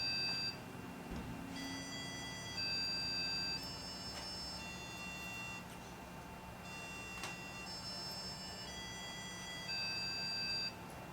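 An electronic hourly alarm programmed on an HP 48 calculator sounds Big Ben-style bongs, clear sustained tones in two separate groups over quiet room hiss.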